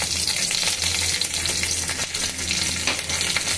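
Dried red chillies and nigella seeds fry in hot oil, giving a dense, continuous close-up sizzle and crackle with bursts of spitting and stirring, with no voices.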